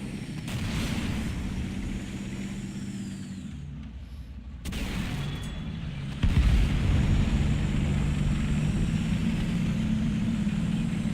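Heavy artillery booms from World of Tanks–style medium-tank combat, with a sharp loud blast near the six-second mark over continuous engine rumble and battle ambience, no talking.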